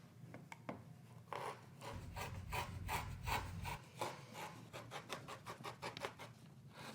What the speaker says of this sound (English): you're gonna go ahead and trim this seam allowance, that's the fabric and your bias tape